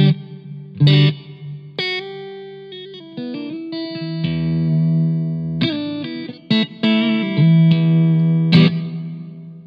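A guitar runs through the reverb effect of a Blackstar Silverline amplifier: clean picked notes and chords ring out with a lingering, spacious tail, moderately loud, with pauses between phrases.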